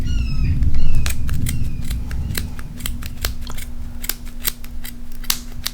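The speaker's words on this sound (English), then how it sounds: "Cut all your threads." Scissors snip repeatedly at the threads of a yarn pom pom made with a Clover tool, a quick series of crisp close cuts over a low steady hum.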